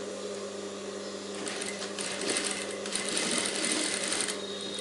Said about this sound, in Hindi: यहाँ से पलटी करने के लिए यहाँ से पहले सिलाई स्टार्ट करेंगे हम।